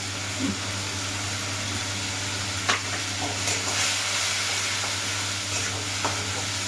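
Ginger-garlic paste sizzling in hot oil for chital fish muithya, a steady close hiss of frying with a few faint stirring clicks.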